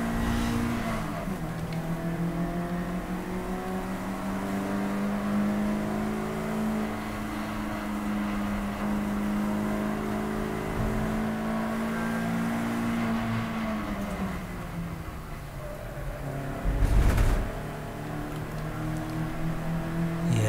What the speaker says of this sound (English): So that's the Tibbetts car, and they're fast as well